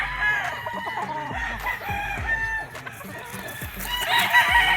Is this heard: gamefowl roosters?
yes